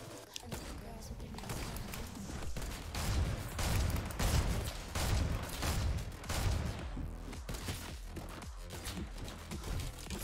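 Fortnite gunfire from a sniper rifle and a silenced pistol sounds as rapid, overlapping shots in a game match, running loud and dense throughout.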